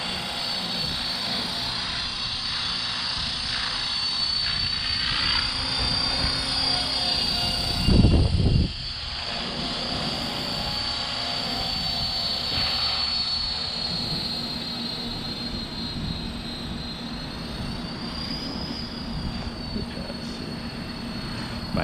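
A 450-size RC helicopter flying outdoors in strong wind gives a steady high-pitched rotor and motor whine, continuous and fairly loud, with wind rumble and a brief louder gust partway through.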